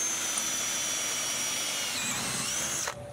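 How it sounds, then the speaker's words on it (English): A power drill whines steadily at high speed while boring through a hole during construction of a boat blind, close and loud, then stops abruptly near the end. "I'm gonna take my other drill and punch through that hole."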